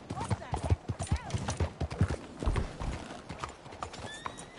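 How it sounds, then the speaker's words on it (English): Horse hooves clip-clop at a steady walking rhythm in Red Dead Redemption 2, close and clear, with a horse whinny and people talking over the steps. "Just look at that horse."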